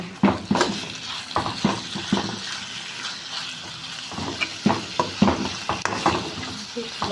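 Red curry paste stir-fries with beef in a pan, heard up close as a fragrant sizzle broken by repeated rhythmic scraping strokes of a spatula against the pan.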